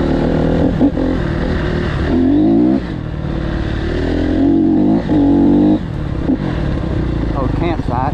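A Honda CRF250R dirt bike rides along a trail, its engine revving up and down in repeated surges close by, while a rider talks over the motor the whole time.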